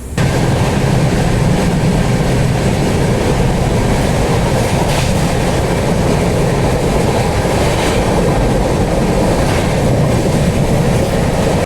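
Indian passenger train running on the line at night, a loud, steady rolling roar with faint rhythmic clatter of wheels throughout, close and continuous with no pauses.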